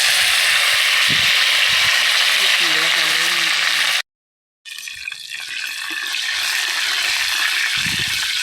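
Dry red chillies and curry leaves hitting hot oil for a dal tempering in a village kitchen, a loud rushing sizzle that cuts off briefly, then resumes, with voices faintly under it.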